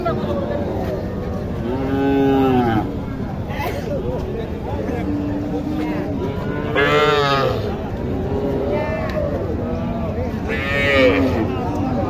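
Local heifers and other cattle low repeatedly at a busy cattle market in Naogaon, with several drawn-out moos rising over a steady crowd murmur while people talk nearby.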